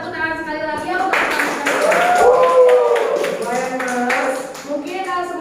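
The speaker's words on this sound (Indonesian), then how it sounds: "Bisa tepuk tangan sekali lagi ya untuk" A group claps in a short burst of overlapping claps, mixed with speaking voices before and after.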